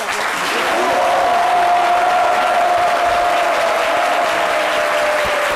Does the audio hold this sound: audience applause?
yes